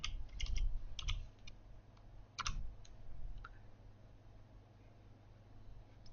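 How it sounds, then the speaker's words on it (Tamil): Keys on a computer keyboard are typed during a Photoshop Lightroom tutorial: a short burst of faint, crisp clicks in the first few seconds, then quiet with a low steady hum behind. "வால் ஸ்ட்ரீட்னு டைப் பண்ணுறேன்"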